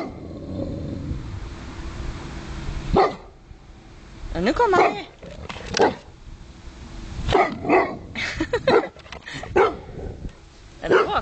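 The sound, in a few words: dog barking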